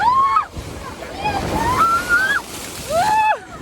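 Broadband splashing and sloshing of sea water surges through the clip, with excited high-pitched voices shouting and squealing over the surf.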